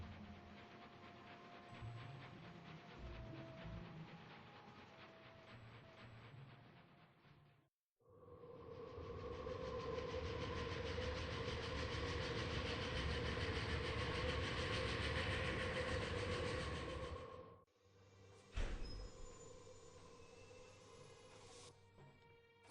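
Aboard the Orient Express, railroad car wheels clatter in a continuous rumbling rush, broken by a brief gap and then a sharp metallic burst near the end, with no voices.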